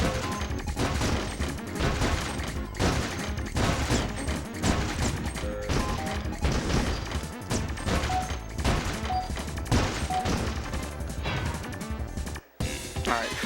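Rapid light-gun fire in the Point Blank arcade video game, dense bursts of sharp repeated shots and crashes with game effects, nearly continuous and loud, briefly dropping out near the end.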